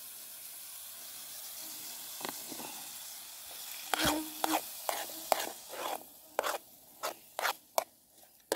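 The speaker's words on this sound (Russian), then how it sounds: "Вот жарится лук на сливочном масле." Onion fries in butter on an Alocs CS-G04PRO camping gas burner beside a lake, a faint steady sizzle broken by a series of sharper scraping stirs toward the end.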